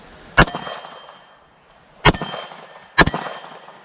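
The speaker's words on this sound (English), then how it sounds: "the first target we're going to go after is going to be the MGM Gong here from MGM Targets" Three sharp metallic clangs ring out as rounds from a Palmetto State Armory Dagger Compact pistol strike a steel MGM gong target, each hit loud and near with a short decaying ring, spaced irregularly.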